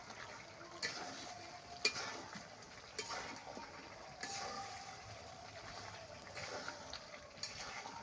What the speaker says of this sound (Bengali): এই পানিতেই মাংসটা কষানি হবে